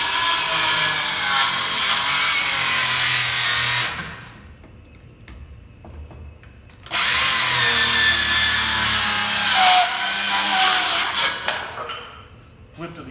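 Circular saw slicing a 45-degree line across a hip rafter tail, two loud close bursts of whining cutting separated by a few seconds of quieter spin-down, the second cut trailing off at the end.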